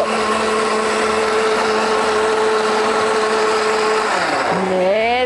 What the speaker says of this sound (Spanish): Y voy a licuar perfectamente bien mi